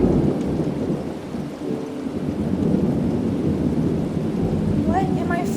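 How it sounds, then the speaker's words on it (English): Thunder rumbles continuously over steady rain in a Toca Life World game scene, a loud, dense storm wash with no pause, and faint brief tonal chirps near the end. "it looks like a storm's starting."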